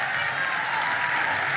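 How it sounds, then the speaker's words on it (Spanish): A festival crowd in Punta Arenas, Patagonia, applauds during Rolo Contreras's comedy set, a brief, steady wash of many hands clapping at moderate loudness. "así que un aplauso para él"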